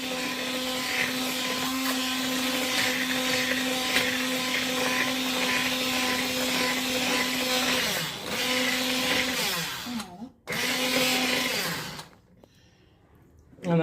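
A motorised hand blender whirs steadily, mashing cooked palak spinach for masiyal; a loud constant hum that drops in pitch near the end, cuts out briefly, then stops.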